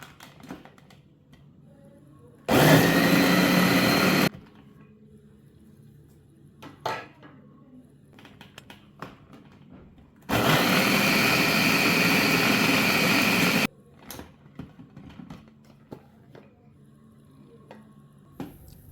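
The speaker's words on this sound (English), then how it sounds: "So I'm going to blend the rolled oats to make oat flour." An electric blender grinds rolled oats into oat flour in a home kitchen. It makes two loud, steady motor bursts, one of about two seconds and a longer one of about three, with quiet pauses before, between and after.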